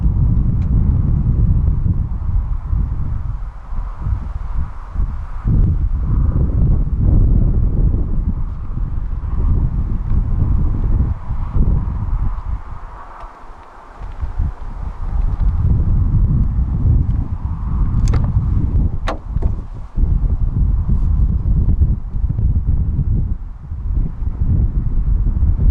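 A 2015 DS 3 with a 1.2 PureTech 110 engine idles after start-up, a low, steady rumble with some wind buffeting and a couple of brief clicks.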